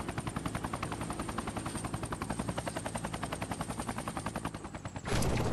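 Guns mounted on the side of a Fortnite helicopter glider fire in a rapid, even stream of bursts for about five seconds, then give way to a steadier, heavier roar.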